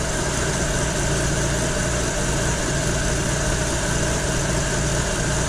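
A BMW V12 fitted in a 1930 Model A Coupe idles with a steady, loud, dense rumble and mechanical hum, unchanging and close throughout with no voices.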